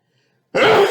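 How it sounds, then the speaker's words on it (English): A single sudden sneeze bursts out loud and close from a person teaching a maths lesson, after about half a second of silence. "I've got to sneeze."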